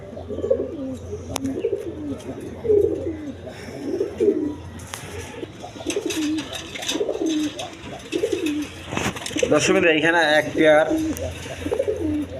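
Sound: Indian lotan pigeons cooing

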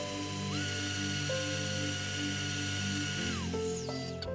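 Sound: electric mixer beating sugar and butter

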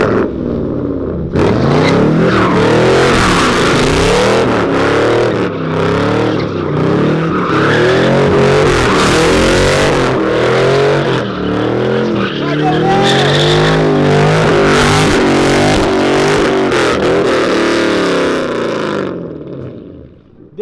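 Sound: Chevrolet Camaro engine loudly revving

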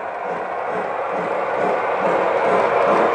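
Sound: Lionel LionChief Plus toy train going by

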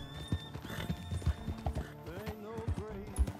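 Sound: horse hooves in video game Red Dead Redemption

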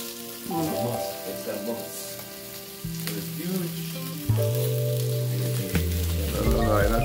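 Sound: fish frying in a pan

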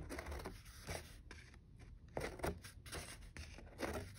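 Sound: scissors cutting paper plate

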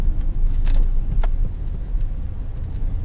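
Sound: pickup truck driving on a farm road

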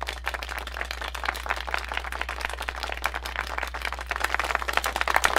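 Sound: applause in the Nekopara Vol. 3 video game

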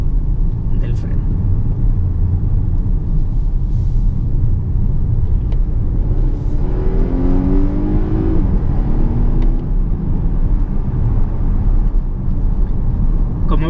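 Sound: Volvo S90 T8 plug-in hybrid accelerating at full throttle

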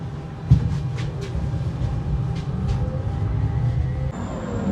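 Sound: Siemens NM6D tram arriving

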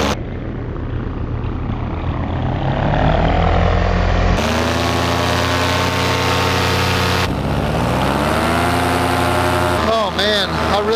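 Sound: small aircraft engine during a low flyby over trees

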